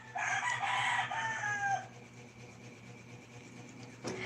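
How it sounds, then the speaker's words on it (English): A rooster crows once, loud and near, a drawn-out call lasting under two seconds, followed by quieter background and a brief cluck at the end; no talking. "Yeah, real roosters."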